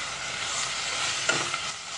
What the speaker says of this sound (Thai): เริ่มกันเลยป้าจะรวนหมูก่อนนะคะ